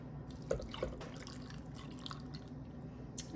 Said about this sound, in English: I'm going to add a little water just to give it a little help.